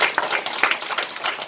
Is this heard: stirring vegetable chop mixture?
no